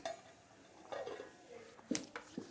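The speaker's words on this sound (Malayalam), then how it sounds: "മെല്ലെ ഒന്ന് ഇളക്കി കൊടുത്താൽ മതി" A spoon clinks and scrapes against a pot while fish curry is gently stirred, several faint, quiet metallic taps and scrapes.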